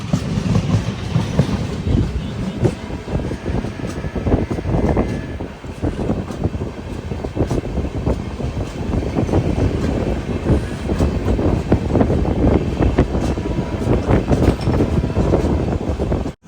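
An express train travelling from Bhavnagar in Gujarat rumbles steadily along the rails, heard from inside a sleeper class coach, with loud continuous clatter, rhythmic wheel clicks and wind noise throughout.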